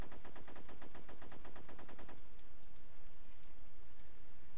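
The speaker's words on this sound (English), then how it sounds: "I hear gunfire" Gunfire in the video game DayZ: a rapid automatic burst of evenly spaced shots for about two seconds, followed by a few scattered fainter shots, with no talk.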